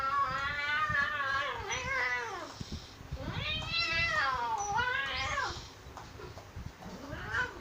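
A pet cat meows repeatedly at close range, long rising and falling cries in a loose series of about three calls with short gaps between them, loud and alone without any talk.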